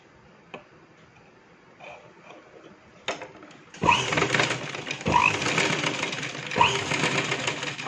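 Sewing machine stitching shoulder tucks in fabric, starting with faint clicks and handling noises, then running steadily in close, moderately loud bursts with brief pauses.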